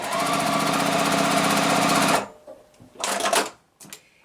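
Sewing machine stitching a seam on a beginner quilt block, a steady loud mechanical whir for about two seconds that stops abruptly, followed by a few brief clicks and shuffling handling noises.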